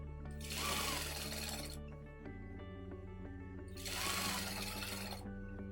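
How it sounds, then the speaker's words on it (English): A sewing machine stitches around a rolled hem, running in two sustained bursts with a steady motor whine and rapid needle clatter, separated by a quieter pause with the machine idling. "I'm going to sew that all around, and I'm going to do that for both layers."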